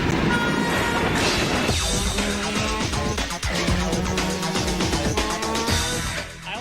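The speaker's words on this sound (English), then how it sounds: "There's a train going past!" A train rushes past with loud blaring horn blasts in a Nintendo 64 commercial, a dense, roaring wash of rolling wheels and horn tones filling the whole clip.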